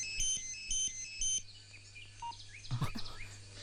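A landline telephone ringing in a dubbed Telugu film scene: several short electronic ring bursts repeat in a steady pattern, fairly clear over a low background hum, followed by a few faint clicks and knocks.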